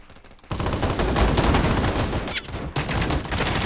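Rapid, loud gunfire in a shooting video game, with dense overlapping automatic bursts starting abruptly and continuing almost without pause, briefly dipping once before resuming.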